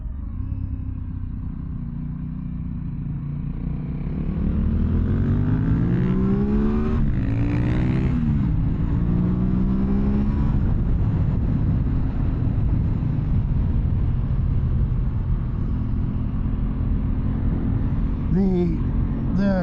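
An Aprilia Tuono 660 Factory motorcycle rides along, its engine rumbling loud and close and rising through gears with wind noise, while a rider talks over it.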